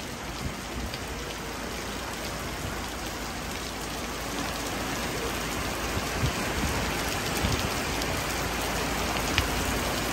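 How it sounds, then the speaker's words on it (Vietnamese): Heavy rain falls in a steady, dense hiss, loud and unbroken throughout. "trời đang mưa cũng lớn nha"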